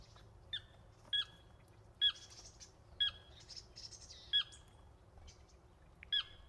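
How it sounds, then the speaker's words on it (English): Water birds call across a lake with sharp, squawking chirps repeated about every second, clear and fairly close above a quiet low background hum. "some water birds."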